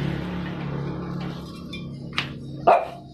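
A dog barks a couple of times near a roadside home, two short sharp yips late in the clip over a low engine hum and faint background sounds.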